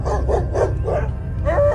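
Dogs bark and howl outside at night, several rhythmic yelping barks in a row, mid-distance and fairly loud over a steady low background rumble.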